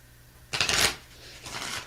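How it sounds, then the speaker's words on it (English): A moon oracle card deck being shuffled by hand during an astrology reading: two bursts of crisp riffling, a long one followed by a shorter one, close and fairly loud with no talking. "we'll shuffle 3 times."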